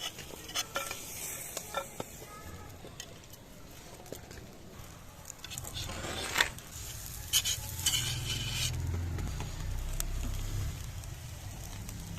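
Barbecue fish tikka sizzles steadily over the heat, a crackling hiss broken by clattering stirring and scraping, fairly faint and close, with no talk.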